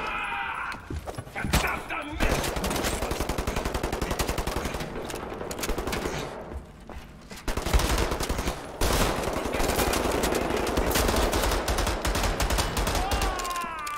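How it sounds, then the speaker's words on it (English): Rapid machine pistol fire in the video game Wolfenstein: The New Order: long, loud, tightly spaced automatic bursts that run almost without pause, with a brief gap mid-way and a sharp sweeping effect near the start. "It's a machine pistol."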